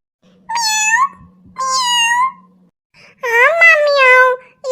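A voice imitates a cat, giving three drawn-out, wailing meows with pauses between them, close and fairly loud over a faint low hum.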